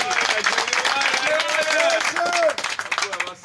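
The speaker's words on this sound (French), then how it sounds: "Acclamez quand même très fort" A crowd applauds and cheers steadily and loudly for a newly named secretary general of the UDPS party, the clapping thinning slightly near the end.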